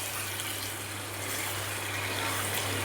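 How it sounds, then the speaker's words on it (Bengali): A small amount of water poured into a hot cooking pan while making alur dom, a steady broadband hiss and splash, close and unbroken, with a low hum beneath and no talk. "এখন একটু অল্পভাবে একটু জল দেব।"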